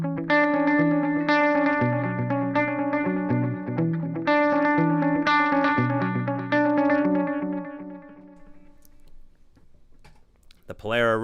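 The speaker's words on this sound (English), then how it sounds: "You can adjust the tone of the delays." Guitar delay pedals on a pedalboard: tonal guitar chords and picked notes repeating with echoing delay trails and some distortion, fading to quiet near the end before a brief final sound.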